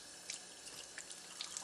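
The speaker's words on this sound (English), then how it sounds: "to clean the filter, we simply run it under water from both ends" Water runs steadily over a Jupiter Aquarius JP108 water ionizer filter as it is rinsed from both ends, a soft continuous splashing stream with a few brighter drips and spatters close by.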